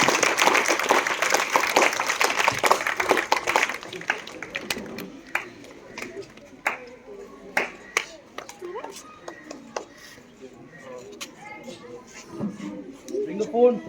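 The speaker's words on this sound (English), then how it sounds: "A big round of applause please." Audience applause at a school English speaking program, a dense burst of clapping hands for the first few seconds that thins into scattered claps and voices.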